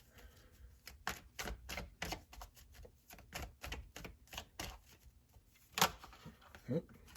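Tarot cards riffled and shuffled by hand in a quiet room, a rapid run of crisp flicking bursts, close and fairly soft, ending in a couple of sharper snaps as the deck is squared.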